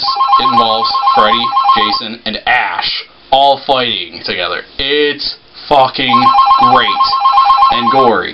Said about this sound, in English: And sorry for my goddamn phone, because nobody can pick it up.